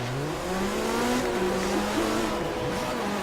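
A Ford Raptor truck roars through a race in Forza Horizon 3, its engine droning steadily with rising and falling pitch as it accelerates and shifts, loud and continuous with no talk.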